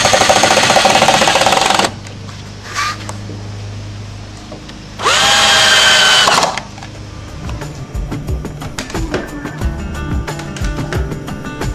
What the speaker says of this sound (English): take our D-hooks along with our electric drill, enter them into the back of our CD rack